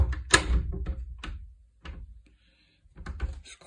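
A kitchen door with a loose, poor-quality handle is worked open, giving close rattling clatter and thumps, then quieter knocks after a pause.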